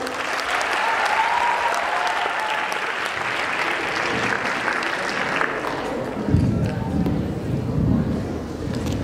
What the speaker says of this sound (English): Audience, please give a big round of applause.